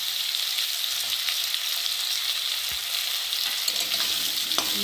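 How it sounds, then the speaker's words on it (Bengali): Potatoes frying in oil in a pan, a dense, steady sizzle with faint stirring scrapes, close and continuous with no talking. "ভালো করে আলুটাকে একটু ভেজে নেবো"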